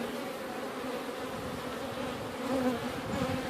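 Honey bees swarm around an open backyard hive during an inspection, a steady, dense buzz of many wings that stays close and constant throughout, swelling slightly near the end.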